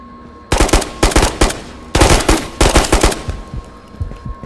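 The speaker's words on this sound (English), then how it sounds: "What's he shooting at?" Loud close automatic gunfire in the VR shooter Ghosts of Tabor, several rapid bursts of sharp shots separated by short pauses, with a faint steady tone beneath.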